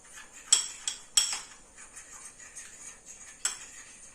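A small teaspoon stirs ingredients for homemade condensed milk in a bowl, clinking sharply against the sides in a few distinct knocks amid lighter irregular scraping taps, close and fairly quiet, no voices.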